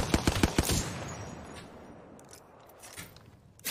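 Automatic weapon fire in a shooter video game: a close, rapid string of loud shots at the start, a lull with faint background noise, then another sharp burst at the very end.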